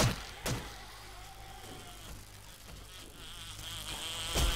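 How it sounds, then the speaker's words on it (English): A bee drones and buzzes steadily in the zombie survival game 7 Days To Die, loud and close, with sharp clicks or thumps at the start and end and no talk over it. "Oh my god, it's a bee! It's a bee!"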